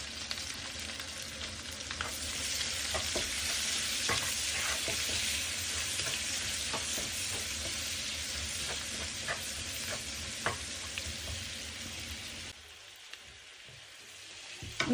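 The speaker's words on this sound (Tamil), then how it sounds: "இதோட 2 மீடியம் சைஸ் வெங்காயத்தை வெட்டி நாங்கள் வதக்குவோம்." Sliced onions and dried chillies fry in a pan with a steady, close hiss of oil and scattered crackles, the sizzle dropping away near the end.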